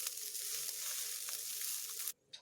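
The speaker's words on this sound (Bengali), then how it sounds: "এই গোবিন্দভোগ চালটাকে আমি এইভাবে ভেজে নিচ্ছি।" Gobindobhog rice fries lightly in a pan with a dense, even hiss that holds steady for about two seconds, then cuts off abruptly into near silence with a faint trailing crackle.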